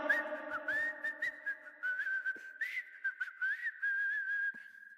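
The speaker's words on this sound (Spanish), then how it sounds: "un día te preguntas qué estás silbando" A person whistles a bright, wavering melody alone and fairly close, phrases rising and falling over several seconds with brief pauses and a few soft background knocks.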